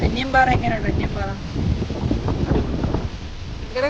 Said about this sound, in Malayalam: ഭയങ്കര കാറ്റ്, നിൽക്കാൻ പറ്റുന്നില്ല.